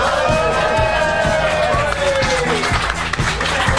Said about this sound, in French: Ils sont ravis, ils ont applaudi.